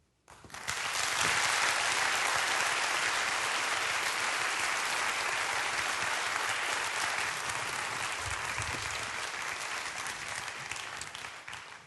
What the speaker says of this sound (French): À ces applaudissements